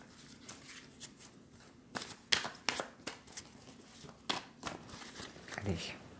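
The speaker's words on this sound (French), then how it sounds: "Je vais tirer une carte du tarot au chaud" Tarot cards shuffled by hand before one is drawn, giving a run of soft, quick riffling flicks and slaps close by, clustered in short bursts with brief pauses between them.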